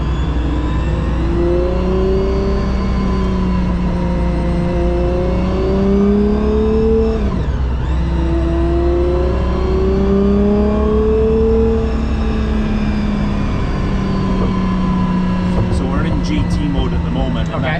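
A Gordon Murray T.50 supercar being driven, its engine note rising and falling in pitch with throttle changes in a loud, continuous drone heard from inside the car, with a voice talking over it.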